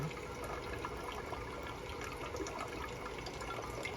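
Liquid rinse solution is poured off during gold refining, giving a steady, close trickling and splashing of water that runs continuously without pause.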